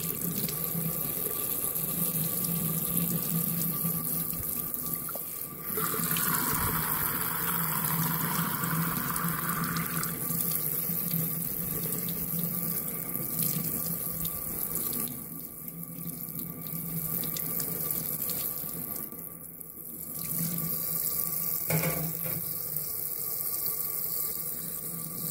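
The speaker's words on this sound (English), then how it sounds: "we're gonna run it through the sink or through flowing water to get all the soap out" Water from a sink tap runs steadily over a K&N cotton air filter to rinse out soap, a continuous close splashing and hiss whose tone shifts briefly as the filter moves under the stream.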